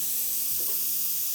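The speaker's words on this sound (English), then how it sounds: "my veggies are just about done caramelizing." Vegetables caramelizing in a pan give off a steady, bright sizzle throughout, with a soft stir or shift near the middle and no talking.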